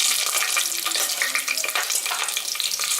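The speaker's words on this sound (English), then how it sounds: "Let's saute this for 2 minutes till the onion gets golden brown." Green chilies and onions sautéing in a pan with popping cloves, a loud, dense hiss of frying oil with sharp crackles throughout, up close and without talk.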